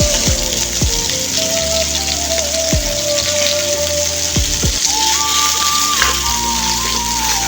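Rohu fish pieces fry in a pan, a close, dense, steady sizzle and spatter like rain that runs the whole time, with a few low knocks and a tonal hum and no talk.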